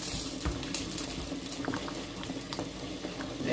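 Spinach sauce made with peanut butter, with okra, fish and crayfish, simmers in a pot, giving a steady bubbling hiss with faint pops and small liquid splashes throughout.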